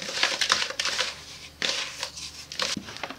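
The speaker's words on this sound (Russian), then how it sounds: "Все размешиваем." Dry winter fishing groundbait mixed with breadcrumbs and three teaspoons of spice being stirred, giving soft, close crumbly scraping and rustling in uneven strokes with brief pauses, fairly quiet and with no voices.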